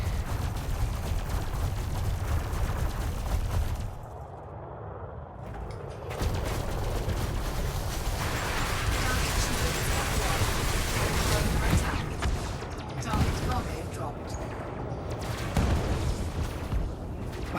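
Rapid weapon fire from a ship in a space combat video game, loud dense booming bursts over a continuous roaring engine bed, with a brief lull before the barrage resumes.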